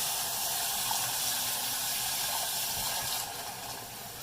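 Hot water poured into a pot for chiles rellenos, a continuous close splashing and hissing fill that holds steady, then eases slightly toward the end.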